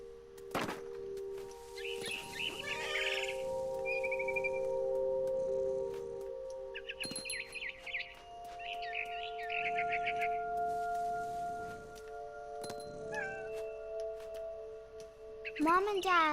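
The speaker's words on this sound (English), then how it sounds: "I tried to be quiet, but the bird was really scared." Several short, frightened bird chirps from the video game What Remains of Edith Finch come in bursts, with sustained tonal game music and a few soft thuds underneath.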